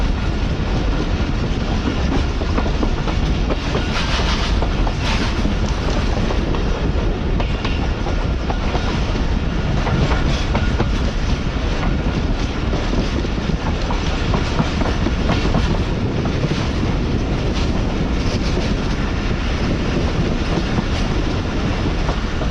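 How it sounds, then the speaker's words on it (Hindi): The Karachi Express passenger train runs at high speed in heavy rain, a loud, steady roar of wheels and rushing wind with rhythmic clickety-clack from the rails, heard from inside the carriage. "हमारी ट्रेन जो है वो स्किप करने जा रही है डेरा नवाब साहब रेलवे स्टेशन को"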